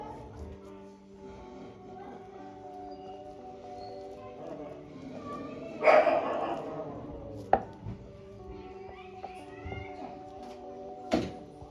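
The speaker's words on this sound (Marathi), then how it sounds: "इथे आपल्याला डोला इक्वल पोर्शनमध्ये कट करून घ्यायचा आहे" A few sharp chopping knocks, roughly three spaced hits, as ladi pav dough is cut into equal portions on a wooden rolling board, over a steady humming background.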